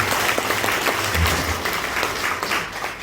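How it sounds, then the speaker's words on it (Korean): Audience applause fills a hall at a Gyeongbuk provincial council member's introduction during an event for visually impaired people: steady, dense clapping from a crowd, fairly loud and continuous for the full stretch. "큰 박수 한번 주십시오"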